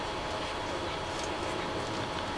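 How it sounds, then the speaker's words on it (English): Passenger train from Chicago to Washington, D.C. rumbling past at a steady roar, a dense continuous wash of rolling noise with no voices. "Just then, the train from Chicago to Washington, D.C. came by"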